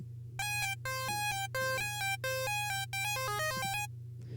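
A bright, buzzy NI Massive synth lead with all oscillators on plays a run of short sustained notes, stepping through a melody with a steady low hum underneath; no talking.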